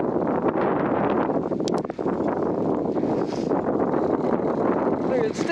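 Loud, steady wind roars and buffets the microphone during a blizzard on a snowy forest trail ridden by fat bike, continuous throughout with a brief dip near the middle.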